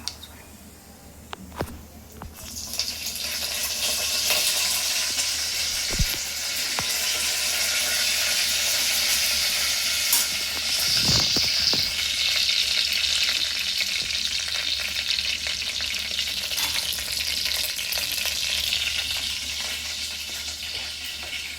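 Mustard seeds, cumin and curry leaves sizzling in hot oil for a misal tempering, a loud steady crackling fry that starts after a few clinks and continues unbroken, close up.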